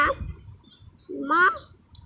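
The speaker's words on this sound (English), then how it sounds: "bird sounds, so whatever bird it is, it will connect to the sound of the bird." A downloaded bird call plays through a small speaker indoors: two short gobbling, fowl-like calls about a second apart, fairly close and clear against faint background noise.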